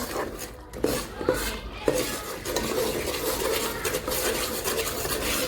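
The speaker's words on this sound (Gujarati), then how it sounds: "થોડી વાર હલાવું ને તો થોડોક શેકાઈ જાય આખો." Flour roasting in ghee in a pan is stirred steadily with a metal spoon, giving soft continuous scraping with a few sharper clinks against the pan, close and alone.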